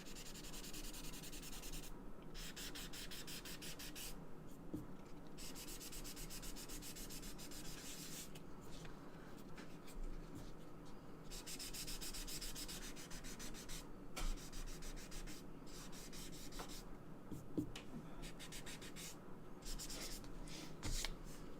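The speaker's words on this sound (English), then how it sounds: "We start with sanding to lighten everything up here." Soft, rhythmic scratchy strokes of sandpaper rubbing across a wood surface before wood burning, repeating in bursts with short pauses, quiet and close.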